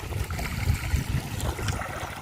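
Irrigation water runs into a rice paddy on a farm, a continuous close gurgling, splashing flow that stays fairly loud and even throughout, with no talking.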